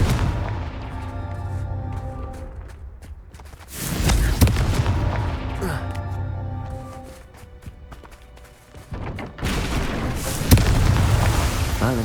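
Confringo blasting curse explosions in the video game Hogwarts Legacy, with heavy booming blasts that recur in waves and rumbling low-end tails, plus scattered footstep-like game effects between them.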